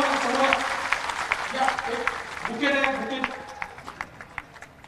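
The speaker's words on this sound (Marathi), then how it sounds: "त्यांचे एकदा जोरदार टाळ्या" Applause from an audience at an outdoor political speech in Beed, a mixed bed of clapping and crowd noise that swells and ebbs over several seconds, with scattered sharper claps standing out near the end.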